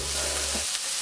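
Seafood sizzles and crackles steadily in hot oil in a pan, a dense, even hiss that holds throughout, with a low hum fading partway and a sharp pop at the very end.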